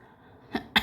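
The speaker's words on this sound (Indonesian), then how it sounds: "Batuk." Two short, sharp coughs about a fifth of a second apart, close and fairly loud, standing out against a quiet room.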